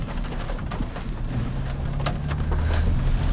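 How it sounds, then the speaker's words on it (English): A 2025 Nissan Armada Pro-4X works through a muddy, rutted off-road rally course in mud and ruts mode, giving a steady, close, unbroken low rumble of engine and drivetrain with a faint airy wash above it. No one speaks. "we're going to be taking this through a pretty quick off-road course here at the Mama Spring Rally"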